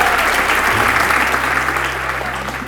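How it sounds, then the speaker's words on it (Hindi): An audience at a live storytelling show applauds, a dense, loud burst of clapping that holds steady and slowly fades toward the end. "अच्छा चलो एक बार इस हरकत के लिए ताली बजा लो यार"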